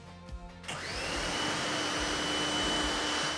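Pressure washer motor kicks on after a few faint clicks and runs as a loud steady whooshing spray with a high whine while rinsing a car.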